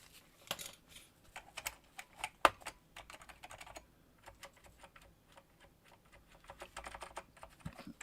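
Typing on an Apple Extended Keyboard II, second generation, with cream-colored alt keys, heard as a steady run of quiet, close key clacks with irregular rhythm and a few sharper strikes, no talking.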